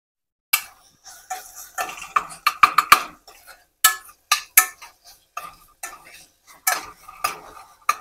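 Onions being stirred as they cook in a pan for Telangana-style mutton paya soup, a spoon or spatula scraping and clinking against the metal in irregular sharp strokes, close and fairly loud, with brief quiet gaps and no talk.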